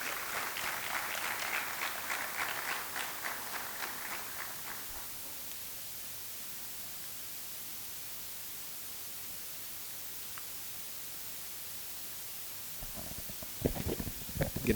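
Applause from an audience welcoming a chief guest onto the stage at a taxes and compliance conference, a dense wash of clapping for about five seconds that fades out, then near silence.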